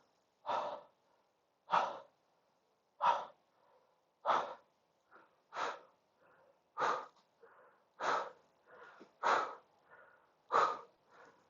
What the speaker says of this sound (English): I'm going to breathe so you guys can hear what it's supposed to be like when going down